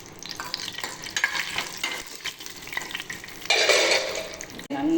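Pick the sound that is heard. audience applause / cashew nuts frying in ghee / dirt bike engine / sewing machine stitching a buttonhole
cashew nuts frying in ghee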